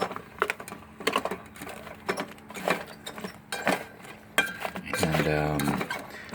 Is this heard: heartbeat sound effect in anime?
no